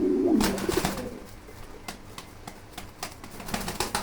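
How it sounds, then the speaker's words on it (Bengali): A male pigeon coos close by in soft, repeated throaty calls, with light clicks and rustling around it. "দেখেন দেখেন নরটা কেমন ডাকে, একদম পুরাই পাগলা এটা"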